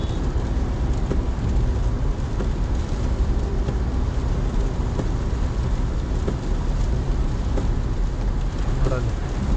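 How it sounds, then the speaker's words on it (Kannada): Heavy rain pours during a road trip, a dense, unbroken roar filling the whole stretch with no pauses, blended with the rumble of the moving vehicle. "ಈಗ ಜೋರಾಗಿ ಆಯ್ತು ಮಳೆ."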